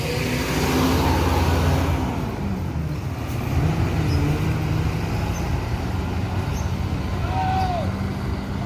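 A PALALA Senopati bus rumbles steadily with a deep engine drone and broad road noise, loud and continuous, with a brief hiss partway through and voices talking faintly underneath.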